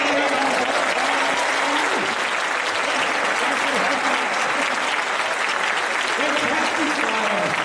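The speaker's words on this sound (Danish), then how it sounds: "Klap lige af jer!" An audience applauds at a staged storytelling event: dense, continuous clapping, loud and sustained for the whole stretch, with crowd noise mixed in and no clear break.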